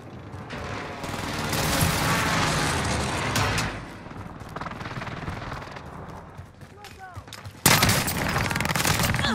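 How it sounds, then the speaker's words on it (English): Allied precision airstrike explosions in Call of Duty Modern Warfare come as heavy rumbling blasts mixed with dense gunfire. A loud, sudden impact lands near the end, and voices talk over the din. "Allied precision airstrike incoming"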